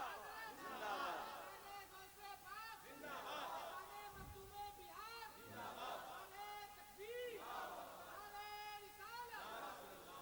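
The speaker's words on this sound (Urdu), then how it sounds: "نعرے کا جواب دیجئے" A crowd of many voices answers in unison with a religious slogan at an Islamic sermon gathering, coming in repeated loud, overlapping bursts that fill the hall.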